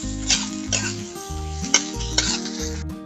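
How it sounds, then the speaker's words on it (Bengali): Garlic and tomatoes fry in a pan while being stirred, giving a sizzle broken by several scraping, clinking strokes against the metal, with a tonal hum beneath and no speech. "রসুনগুলো একটু নাড়াচাড়া করব।"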